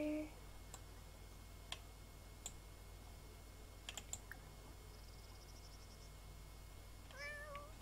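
Cats in The Sims 4 meow briefly at the start and again near the end, faint against steady game hum, with scattered mouse and keyboard clicks between.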